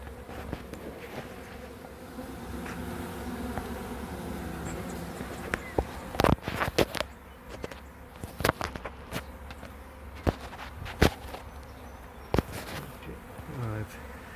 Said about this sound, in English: I've swept the bees from where they were down onto the mat.